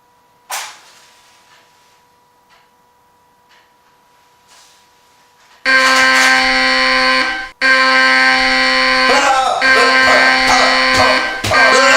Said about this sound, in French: Premier test, une alarme haut de gamme.